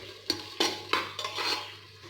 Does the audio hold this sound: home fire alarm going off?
no